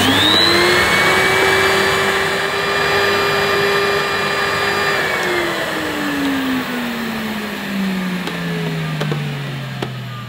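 A National capsule footstool vacuum cleaner runs loud and close with its hose blocked, a steady motor whine whose pitch holds and then slowly falls, with no talking.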